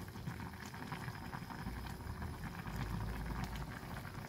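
Paksiw fish stew with whole fish simmers in a pot, a steady, continuous bubbling boil that holds at a moderate, even level throughout with no voices.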